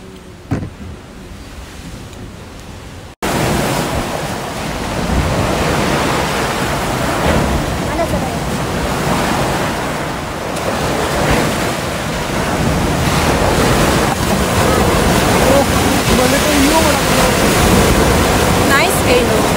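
Sea waves along the coast at Oslob, Cebu wash in a loud, steady roar of surf with wind buffeting the microphone, starting after a brief quieter moment and rising slightly toward the end.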